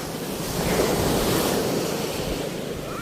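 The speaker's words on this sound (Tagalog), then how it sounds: "At malakas ang alon ay mayroon pa rin" Strong sea waves roar during a monsoon storm at sea off a fishing boat, a continuous loud surf wash mixed with heavy wind buffeting the microphone.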